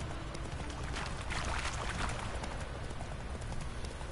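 Hooves of Roach, Geralt's horse in the video game The Witcher 3, clip-clop steadily and fairly loudly over a busy, noisy game soundscape, without any talk.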